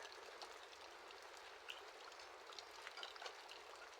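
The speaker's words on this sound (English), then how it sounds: "I want to concentrate on the water that is falling, because to me it's therapeutic." Water pours steadily from a waterfall on a cold, rainy day, a soft continuous hiss heard from a moderate distance with no voices.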